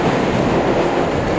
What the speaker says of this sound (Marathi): रेल्वे ब्रिजवर चाललो आहे तिकडनं, म्हणून थोडा रेल्वेचा आवाज वगैरे आहे